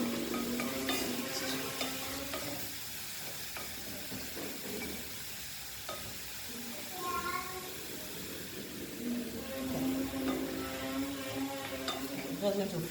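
Rice for Italian risotto frying and being stirred in a pan, a soft steady sizzle and hiss with occasional scraping stirs, close and moderately quiet, continuous throughout.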